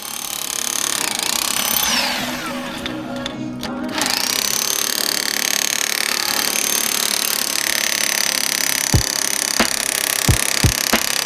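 A power tool grinds and cuts through a neighbor's concrete pour that overflowed past the property line on a building site, a loud continuous harsh whine with a brief dip, then sharp impacts near the end.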